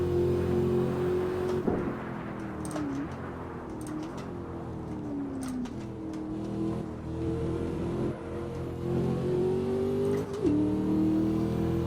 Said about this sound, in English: This is really one of the first cars I've ever heard in Assetto Corsa that has like good supercharger sounds.